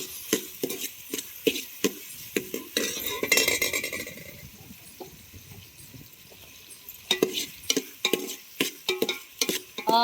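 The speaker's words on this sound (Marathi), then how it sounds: "आता आपल्याला यात टमाटा टाकायचा आहे तो बारीक कापला आहे" A metal spoon scrapes and clinks against a pan in quick, uneven strokes as finely chopped tomato is stirred into fried onions, with a soft sizzle between the strikes and a brief louder burst of frying midway.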